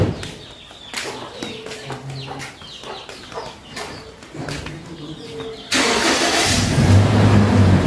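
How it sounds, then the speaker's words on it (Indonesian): A car's engine starts as it is taken out after night rain: soft clicks and birdsong first, then the engine catches with a sudden loud roar and keeps running steadily and close. "Ini Kak Abil mau ngeluarin mobil dulu."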